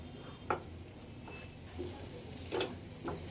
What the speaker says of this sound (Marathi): आता आपण आपल्या शिऱ्याला परतून घेऊया.